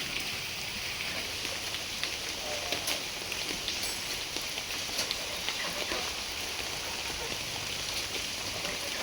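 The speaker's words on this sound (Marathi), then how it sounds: "आता कंटिन्यू पाऊस सुरू आहे" Morning rain keeps falling steadily outdoors, a constant close hiss with scattered louder drips and patters, faint and uninterrupted with no talk.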